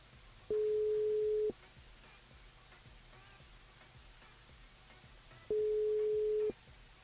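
A phone line rings out during a live radio call-in show, two long identical electronic tones about a second each, separated by several seconds of faint line hiss, with no voices.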